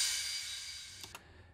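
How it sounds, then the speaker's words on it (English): Reverse cymbal effect in a pop/EDM track, a soft hissing wash that fades away, followed by a couple of faint ticks at the end. "And then our reverse cymbal,"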